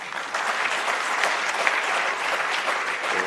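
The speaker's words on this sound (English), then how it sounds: "You are not clapping hard enough like people who have renewed energy" A conference audience at a national colloquium on electricity gives a renewed round of applause: even, sustained clapping from a crowd, moderately loud and continuous, with no voices over it.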